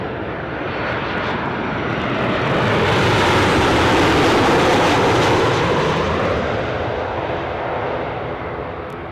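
An ATR turboprop aircraft at Newcastle airport roars past, a loud, broadband engine rush that swells to a peak near the middle and then slowly fades, with no talking.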